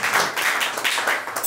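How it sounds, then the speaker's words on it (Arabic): An audience claps and taps in steady rhythmic bursts, loud and close, filling the short moment without voices over it. "صفقوا لنا"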